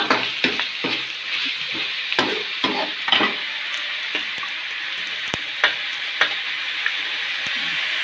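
Dried fish frying in hot oil gives a steady close sizzle with irregular crackles and pops, going on alone without talk.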